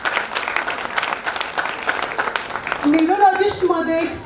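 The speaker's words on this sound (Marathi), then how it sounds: "मनापासून मनापासून टाळ्या वाजवा" Audience applause at an awards ceremony honouring women on Women's Day, a steady wash of clapping that runs throughout, with a voice speaking over it near the end.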